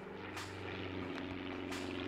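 Helicopter flying overhead in the video game Arma 3, a steady droning rotor hum with faint chopping, moderately loud and continuous for a couple of seconds.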